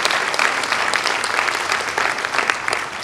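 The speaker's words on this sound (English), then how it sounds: "I want a round of applause for Xaverian for hosting us here tonight" A school auditorium audience at a Brooklyn city council debate applauds its host school, Xaverian: loud, dense crowd clapping sustained throughout, close and even, with no voices over it.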